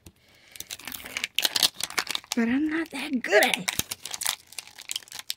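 Plastic packaging on an LOL Surprise toy box being crinkled and torn open in close, scratchy bursts, with someone talking over the rustling.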